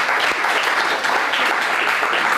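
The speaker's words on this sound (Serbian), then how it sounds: "A vi aplauz!" A studio audience on a talk show claps steadily and loudly throughout, a dense continuous wash of applause with no gaps.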